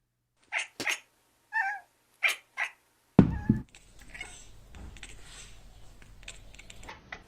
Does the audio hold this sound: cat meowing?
yes